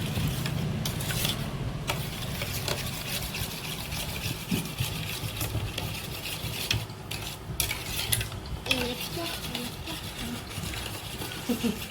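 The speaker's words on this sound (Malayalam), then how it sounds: "നമ്മൾ നന്നായിട്ട് ഇളക്കണം" A spoon stirs a sweetened yogurt mixture for curd vada, giving continuous soft scraping and swishing close by, with faint background clatter.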